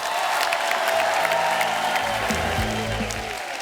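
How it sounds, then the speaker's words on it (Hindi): A studio audience on a comedy talk show breaks into loud, sustained applause with some cheering, while music swells underneath and tapers off toward the end. "आप सबकी जोरदार तालियों के बीच"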